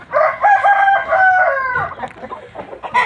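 A rooster crows loudly nearby, one long drawn-out call lasting over a second, followed by scattered farmyard noise and a few faint clucks.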